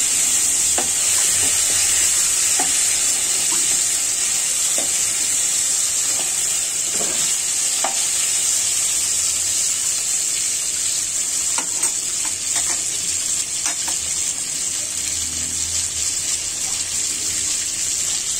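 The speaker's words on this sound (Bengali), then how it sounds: "মাছগুলো নাড়াচাড়া করে দিব" Koi fish being turned and stirred while frying in a pan, with a steady loud sizzle under scattered scraping and clinking of the spatula, close up and continuous.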